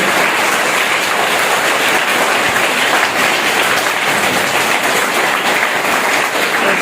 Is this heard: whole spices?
no